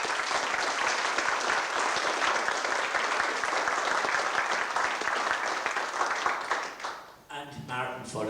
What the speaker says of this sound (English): Will you give Joe please a round of applause?